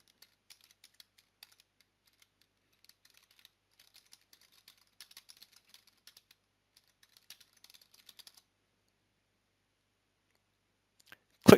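Rapid light keystrokes on a computer keyboard as a name and short description are entered for a data source in App Store Connect, scattered soft clicks in quick bursts, then quiet and a final loud thump.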